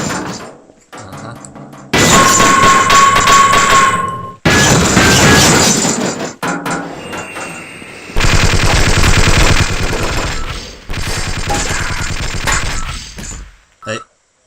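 Automatic weapon fire in Half-Life rattles in loud, sustained bursts separated by short silent gaps, with sharp crashing impacts mixed in and no talking.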